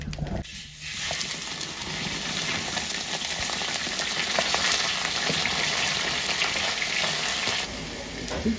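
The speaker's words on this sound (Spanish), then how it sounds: "ya puse este comal con aceite. Ahora le pongo la carne." Meat frying in oil on a comal gives a steady, bright sizzle close by, continuous and even with small crackling pops throughout and no talking.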